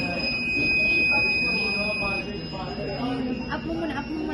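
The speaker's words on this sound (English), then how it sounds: "we uploaded our code to the Arduino and listened as our melody played through the buzzer" An Arduino-driven buzzer plays a melody as sustained thin electronic tones over a low room murmur, with a few faint voices in the background.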